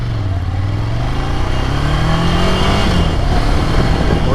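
Ducati Scrambler motorcycle accelerating hard through the gears on the road, a loud close engine note climbing steadily in pitch with steady wind roar, no talking.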